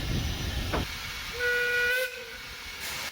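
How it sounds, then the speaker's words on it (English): A steam locomotive on a heritage railway runs round its train, with rumbling chuffs and hiss giving way to a clear two-tone steam whistle that sounds for about a second, followed by a further burst of steam. "as the locomotive runs round the train for its journey home"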